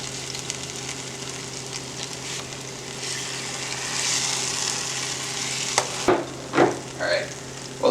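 Large peach pieces fry in oil in a pan with a steady, close sizzle. A few sharper pops and clinks come near the end.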